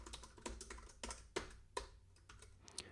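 Keys tap on a computer keyboard in a quiet room, a faint, uneven run of separate close clicks with no voice over them.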